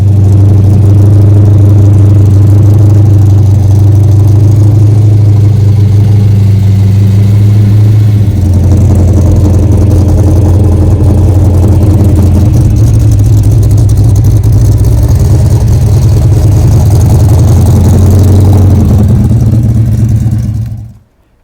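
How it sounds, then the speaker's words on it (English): A 1965 Dodge Coronet 500 idles loudly at a Mopar car show, a deep steady rumble with slight shifts in pitch that runs for about twenty seconds before cutting off abruptly, no voices. "That car you hear is a 65 Coronet 500."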